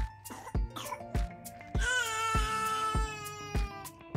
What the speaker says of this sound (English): Now she's coughing.